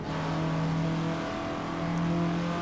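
Formula Ford Russel-Alexis Mk14 racing car in the sim game Assetto Corsa, its engine droning steadily and fairly loud throughout, a smooth continuous mid-pitched hum without pauses.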